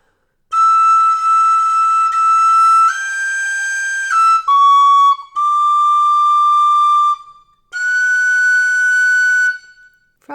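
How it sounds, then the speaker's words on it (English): Tin whistle playing the melody of the carol Silent Night in a lesson, loud, clear sustained notes with short breaks between phrases and no talking. "to get the high notes on the whistle you have to blow a bit harder than the low notes"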